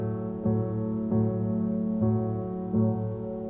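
Piano left-hand chords from a cover of a song, a sustained low chord restruck in a steady, even rhythm several times, played alone at moderate volume with no talking.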